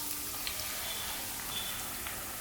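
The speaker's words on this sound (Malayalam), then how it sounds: "എണ്ണ നന്നായി ചൂടായി വന്നു കഴിയുമ്പം ഏകദേശം 10 അല്ലിയോളം വെളുത്തുള്ളി ചെറുതായിട്ട് അരിഞ്ഞിട്ട് ഇതിലേക്ക് ചേർത്ത് കൊടുക്കുക." Chopped garlic, about ten cloves, sizzling in hot oil in a pan, a soft continuous hiss and crackle, faint and steady with no talk.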